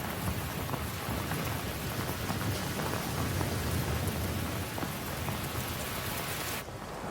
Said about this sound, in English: It's torrential.